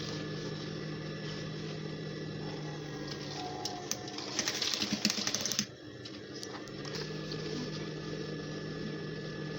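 Sewing machine stitching a waistband onto pants, a rapid mechanical whir that runs in a short burst of a second or two over quiet room noise.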